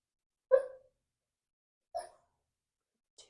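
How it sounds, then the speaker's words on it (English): A sleeping, dreaming dog gives three short soft whimpering yelps, well spaced in near silence, the last one faint. "Definitely hear my dog dreaming right now."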